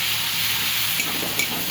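Spices with red chili powder fry in a pan for a vegetarian paneer dish, giving a close, steady, dense sizzle that holds evenly throughout with no voices.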